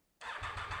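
A motorcycle engine with a suspected battery fault catches abruptly after a moment of quiet and runs with a low mechanical rumble, close by and brief.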